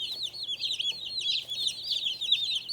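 Young meat-bird chicks cheep and cluck continuously in a busy overlapping chatter, close but fairly soft, with no voices.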